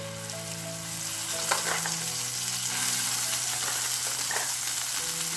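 Masala paste frying in a spoonful of oil in a pan for a capsicum dish, a steady close sizzle and crackle with occasional stirring scrapes, no voices.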